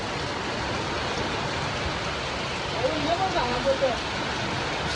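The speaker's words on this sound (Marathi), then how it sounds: "जाम जोराचा पाऊस आला" Steady, dense hiss of heavy rain pouring down near Bhandardara, heard from shelter beside a house, with a faint tonal chirp rising briefly near the end.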